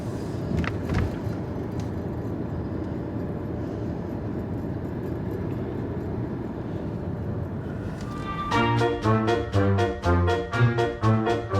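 A family car cruising on the road on the drive to Paris, a steady rumbling engine and tyre roar throughout, joined near the end by a rhythmic series of loud clattering thumps.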